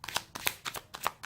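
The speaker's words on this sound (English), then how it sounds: "If I can shuffle." Tarot cards are shuffled close up in quick, repeated riffling bursts, about six short papery flurries in a row with no talk.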